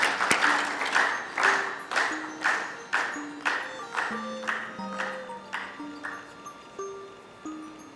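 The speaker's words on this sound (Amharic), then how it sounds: "አጨብጭቡላቸው።" An audience at an Ethiopian book launch claps in a steady rhythmic beat, each clap evenly spaced and moderately loud. Faint tonal voices carry through the clapping.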